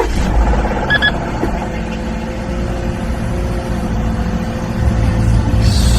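A V8 SS Thunder engine runs steadily with a deep, rumbling idle, loud and close throughout with no talk over it.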